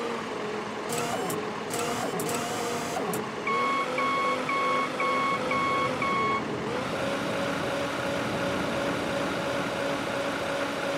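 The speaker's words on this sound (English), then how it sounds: "little bit different driving a forklift with this controller" A forklift driving in the Beer Factory video game, giving a steady engine hum with a run of evenly spaced electronic reversing beeps in the middle, then a continuing motor drone.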